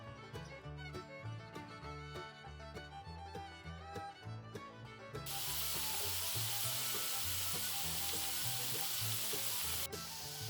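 Background music plays alone at first, then loud, steady sizzling of potatoes frying in hot oil takes over and continues to the end.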